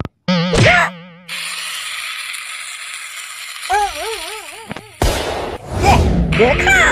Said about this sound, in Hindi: मेरा पटाखा बहुत अच्छा है, कितनी तेज आवाज कर रहा है